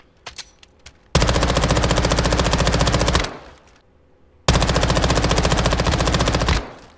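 MPX-K submachine gun in Call of Duty Modern Warfare II firing without a muzzle attachment: two long, loud, rapid full-auto bursts of about two seconds each, with a short pause between and a few faint clicks before.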